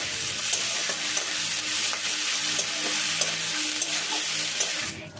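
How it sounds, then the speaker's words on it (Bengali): Steady, loud sizzling of chopped onion and ginger-garlic paste frying in hot oil, with occasional crackles and pops throughout and no talking. "এবার সমস্ত কিছু একটু ভালো করে ভেজে নিতে হবে"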